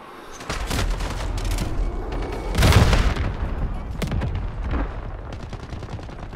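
Sniper fire and other gunshots in Modern Warfare, played on a GTX 1650 laptop, come as loud cracks with a heavy boom near the middle, mixed with game noise and a few shouted voices.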